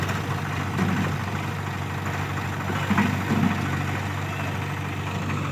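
Powertrac 39 tractor engine idling at a site where soil is being loaded, a steady low diesel rumble with broadband noise throughout, close and continuous, with no talking.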